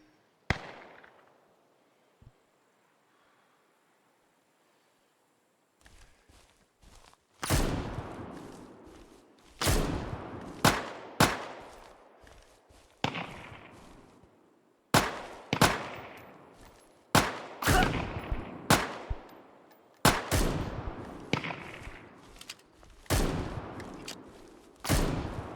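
Shotgun blasts in a survival video game, fired in a steady series of about a dozen sharp, loud booms spaced a second or two apart after a few quiet seconds, each with a short decaying tail.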